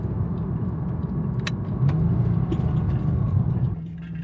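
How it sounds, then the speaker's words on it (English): A car engine downshifts at a cars and coffee meet, a steady low rumble rising slightly in pitch as the revs climb, with faint jangling clicks over it and no talking. "Let me just downshift here. Downshift again."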